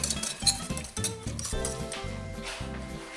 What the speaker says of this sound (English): Then into there with the salted caramel flavouring and your sugar, and then give them a good mix round.